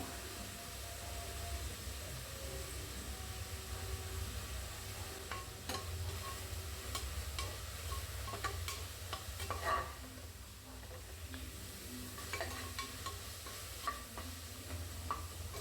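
Onions with hand-torn mint and coriander leaves sauté in a pan for coconut rice, giving a steady low sizzle under irregular spoon scrapes and clinks against the pan.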